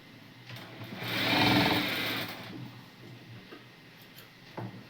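A sewing machine runs a short burst of stitching on fabric for a baby frock, rising to a steady, fairly loud whir for about a second and a half, then slowing to lighter ticking, with no one talking.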